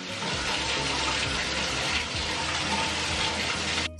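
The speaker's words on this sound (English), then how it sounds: "you should probably check the temperature of your water before you let it run down the strands of your hair" Tap water runs steadily and fairly loud for the whole stretch, a continuous broadband gush with no voice over it, as used to rinse conditioned hair.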